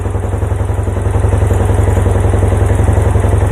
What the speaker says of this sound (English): It takes throttle just like it's supposed to. No hesitation, it's not stalling like it did.